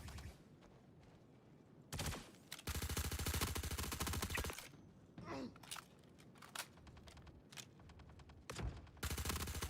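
Incoming gunfire aimed at the player in Star Citizen, long sustained bursts of rapid automatic shots with short gaps and a few scattered single cracks, loud and close.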